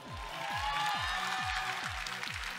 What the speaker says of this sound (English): I purposely asked for that applause